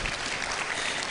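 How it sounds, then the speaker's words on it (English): A room of classmates at a summer school clapping together, dense continuous applause from many hands, brief and fairly loud. "Let's clap for ourselves."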